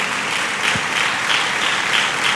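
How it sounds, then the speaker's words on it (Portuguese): A church congregation claps steadily, a dense, sustained round of applause that neither builds nor fades. "Você pode aplaudir a Jesus"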